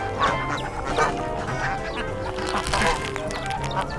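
A crowd of ducks and ducklings quacks continuously and close by at a petting farm, a dense overlapping chorus with faint voices mixed in underneath.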